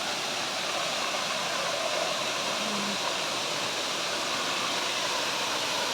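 Encantadora Falls pours in a continuous, dense rush of falling water, a steady broadband roar heard close and unbroken throughout.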